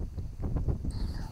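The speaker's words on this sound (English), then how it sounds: "This is windy." Gusts of wind buffet the microphone in low, rumbling surges, with faint rustling underneath.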